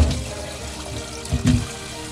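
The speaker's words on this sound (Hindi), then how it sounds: "अब मैं इसमें जो टैप वाटर आता है, MCD का पानी, वही डालूंगी और मैं उसमें ये सारे आलू डाल दूंगी" Tap water from a municipal supply runs into a bucket used for washing potatoes, a short, close, splashing pour with a couple of louder sloshes, heard alone.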